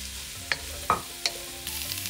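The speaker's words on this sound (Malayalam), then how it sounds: "ഇനി ഞാൻ ഇതിലേക്ക് ചേർക്കുന്നത് 250 ഗ്രാം അമരപ്പയർ" Sliced broad beans, cut half an inch thick, stirred into frying onions in a pan, giving a soft sizzle broken by a few sharp scraping stirs near the mic.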